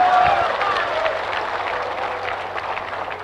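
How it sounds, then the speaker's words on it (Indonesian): A crowd at an Islamic lecture applauds in a steady, dense wash of clapping lasting the full few seconds, with faint voices mixed in. "Kalian enak aja tepuk tangan"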